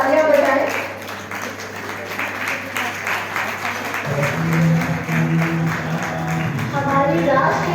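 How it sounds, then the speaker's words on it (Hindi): Sustained applause from a crowd at a Marwari women's conference in West Bengal, dense clapping that carries on under a voice speaking over a microphone. "जोरदार तालियां बजाएं"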